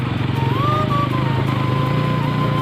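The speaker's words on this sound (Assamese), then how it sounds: "নন ষ্টপ চলাই আছোঁ না বাইকটো।" A motorbike runs steadily on a rough hill road down from the hills, its engine drone holding a constant loud rumble throughout with a brief rising whine partway through, close and continuous with no talk.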